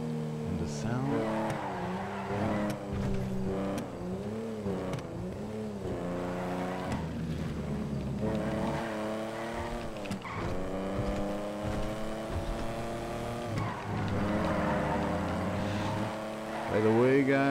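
A loud Lancia Stradale racing engine in GTA V revs up and down repeatedly during drag racing, rising and falling in pitch, with occasional tire squeals and a voice talking over it.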